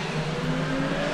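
A 1992 DTM race car engine drones steadily in the RaceRoom racing game, a continuous held rev with a tonal whine and no voice over it.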